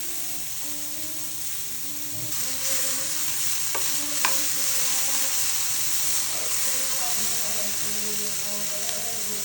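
Corn added to a hot pan while making white sauce pasta, a loud steady sizzle and hiss with occasional stirring scrapes and clinks, close and continuous.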